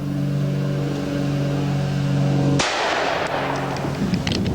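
A Rowland 464 rifle firing a 135-grain bullet gives a single sharp, loud report midway, cutting through a steady engine-like drone and followed by a brief rumbling decay.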